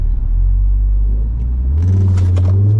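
A 460 bhp stage 2 Audi RS3 8P launches hard from a standstill. A loud, close engine drones low under boost, then the revs climb sharply into a deep, rising roar as the car pulls away.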